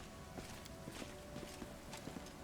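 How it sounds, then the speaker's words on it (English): Horse hooves clip-clop at a steady walking pace in the fantasy role-playing game Pathfinder: Wrath of the Righteous, soft and regular over a constant background bed of game ambience. "Oh, calm down there, horse."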